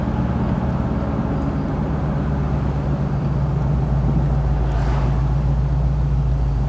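A 1969 Chevrolet Camaro SS convertible cruises in third gear at low revs around forty miles an hour, its engine a steady, deep rumble mixed with road and wind noise, continuous and even throughout.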